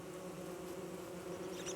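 Killer bees buzzing in the video game Don't Starve Together, a steady, continuous insect drone that stays soft and even for its whole short length, with no voices over it.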